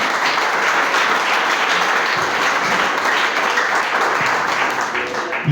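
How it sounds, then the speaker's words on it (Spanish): A church congregation applauds during a worship service, producing loud, dense, steady clapping that continues without pause for several seconds. "Puede aplaudir al Señor."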